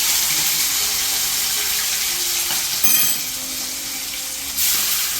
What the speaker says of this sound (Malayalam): ഇപ്പൊ ചിക്കന് ഫ്രൈ ആക്കി എടുക്കുകയാണ്.